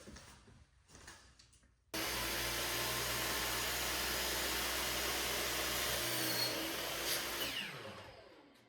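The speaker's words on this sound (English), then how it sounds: "So we have to run them through the joiner to take that off." A wood jointer planes boards for an A-frame cabin interior, its motor roaring up after a quiet start into a loud, steady whirring cut that holds for several seconds, then winds down, close by with no talk.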